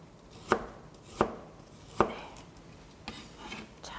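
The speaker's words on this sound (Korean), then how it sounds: "요거 생강인데요. 그냥 편썰기 하시면 돼요" Knife cutting thin slices of fresh ginger on a cutting board, three crisp evenly spaced chops followed by two softer taps, close and clear with no talking.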